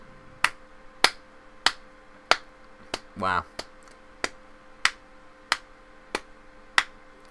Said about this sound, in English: Go clap.